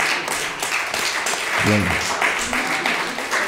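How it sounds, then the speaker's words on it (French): A seated audience at a talk on artificial intelligence and social equity claps for Linda, a steady round of applause with a brief spoken word over it. "il faut l'applaudir."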